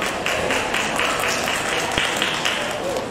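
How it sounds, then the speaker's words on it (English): A crowd at a school science, art and craft exhibition gives an honoured guest a round of applause, a dense, fairly loud clapping that sustains evenly across the three seconds. "Please give him a huge round of applause."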